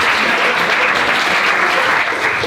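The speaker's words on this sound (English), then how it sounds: "Everyone get a round of applause for Lucy." Audience applause at a live comedy show, a dense sustained burst of many hands clapping, loud and close, with no talk over it.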